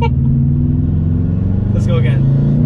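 A tuned 2020 Subaru STI with an aftermarket intake drones loudly and steadily as it accelerates, a deep engine rumble close up inside the car, with voices briefly heard over it.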